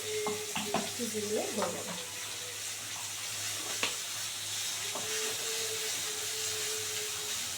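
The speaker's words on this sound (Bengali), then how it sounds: "দিয়ে এটাকে দিয়ে খুব সুন্দর করে এবার কষাবো।" A tomato and ground spice paste fries for a rohu fish and green banana curry, with steady sizzling and frequent stirring scrapes close by, while someone speaks briefly over it.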